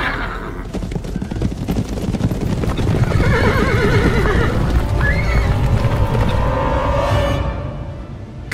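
A horse in the Dark Romance video game whinnies loudly over a rapid clatter of hooves, with the neigh rising and falling across the middle and the galloping steady throughout.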